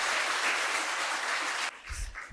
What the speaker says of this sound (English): Please join me in giving a huge round of applause to Mr.